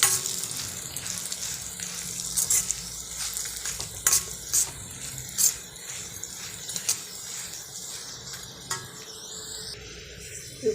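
Urad dal and pirandai (adamant creeper) frying in oil for a pirandai thuvaiyal, with steady sizzle and intermittent scraping stirs, moderately close.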